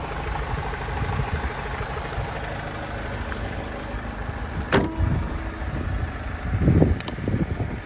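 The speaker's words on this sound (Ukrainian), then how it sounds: "Робота мотора." Renault Trafic 2010 Passenger Long with a 2.0 diesel engine idling steadily, close and even, with a couple of brief knocks near the end.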